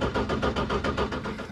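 A Ford Escort engine cranking slowly over on the starter, a close, steady rhythmic churning with evenly spaced pulses and no catch.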